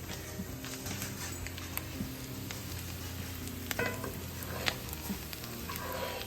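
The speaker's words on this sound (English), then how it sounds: "Frying up some potatoes and some sausage." Potatoes and sausage sizzle steadily in a newly seasoned cast iron skillet, a continuous crackling hiss with occasional pops and scraping stirs, close by.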